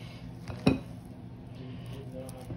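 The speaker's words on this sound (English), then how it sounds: "So let's give this a good stir." A jalapeno filling mixture being stirred in a bowl: soft, muffled scraping and squishing, with one sharper clink of the utensil against the bowl early on, heard up close with no talking.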